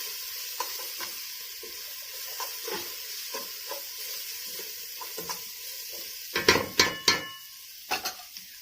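Taro and crushed garlic frying with browned onions in a pot, a soft sizzle under repeated light stirring clinks, followed by a burst of louder metallic scrapes and knocks near the end.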